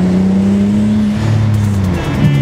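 Custom turbocharged 2006 Hyundai Tiburon V6 idling steadily with a low droning hum, close and continuous, with a slight shift in tone near the end.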